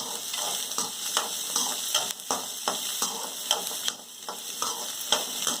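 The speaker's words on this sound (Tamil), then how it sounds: "இப்போ கொஞ்சம் வதங்கிடுச்சு இந்த பூண்டும் அதுவும்" Garlic sautés in oil in a pan for poondu kuzhambu, a steady sizzle broken by rhythmic scraping stirs about every half second, close and fairly quiet with no talk.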